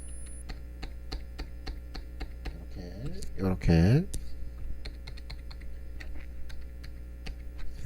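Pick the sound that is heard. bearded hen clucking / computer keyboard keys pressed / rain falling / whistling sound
computer keyboard keys pressed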